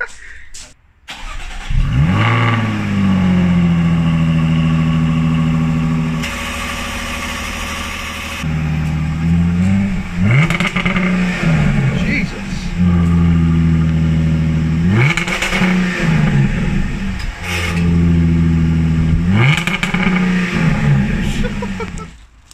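A Ford ST car engine cranks and starts while raised on a lift, then revs repeatedly in loud rising bursts between steady idling stretches.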